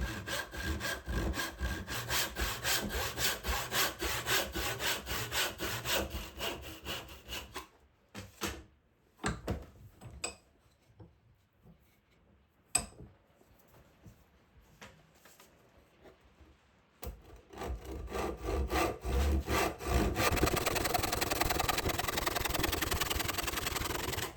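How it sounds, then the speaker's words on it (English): A hand saw rasps through waste wood on a hand plane handle in quick, steady strokes, pauses with a few knocks and clatters, then resumes sawing loudly. "I started to drill and cut away as much of the waste material as possible"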